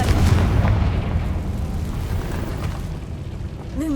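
A fiery Confringo spell blast in the video game Hogwarts Legacy bursts loud and close, a heavy explosive boom that rumbles and slowly decays over several seconds.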